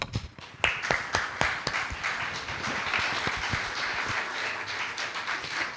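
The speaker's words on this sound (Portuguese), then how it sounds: "Glória a Deus, aplauda o Senhor." A church congregation claps during a Portuguese-language worship service, starting with several loud, distinct claps and building into steady, dense applause that keeps going.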